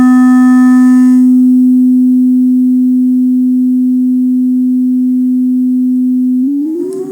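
A loud, pure sine-wave tone holds a steady low pitch for several seconds, then slides upward in frequency right at the end, sounding alone with no voices.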